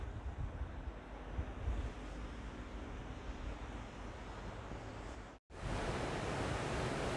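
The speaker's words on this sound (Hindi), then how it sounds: "बड़ी तेज़ आवाज़ आ रही है पानी की ना।" Loud, steady rushing of a river flowing past a small park in an Italian village, a continuous broadband roar that briefly drops out near the end before resuming at full strength.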